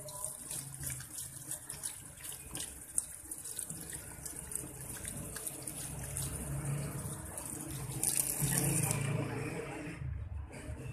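Tap water runs quietly and steadily into a sink while gluthamansi baking soda soap is rinsed away, a soft continuous splash that swells slightly near the end before stopping.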